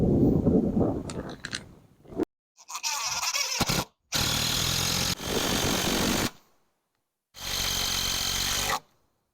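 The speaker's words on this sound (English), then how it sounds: "They do require pre-drilling for the best results" A power drill pre-drills holes in wood for screws on a backyard playhouse fence, three loud sustained bursts of a whirring motor biting into the timber, separated by short pauses, close up with no talk.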